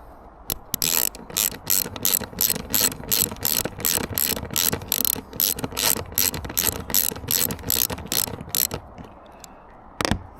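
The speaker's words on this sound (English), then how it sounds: "just going to bolt them down. So that just screw in, look. 13mm." A ratchet wrench tightens 13mm bolts on a Unistrut roof rack atop a Ford Transit camper van, its pawl clicking in steady rapid bursts of strokes, close and fairly loud, with a brief pause near the end and no talk.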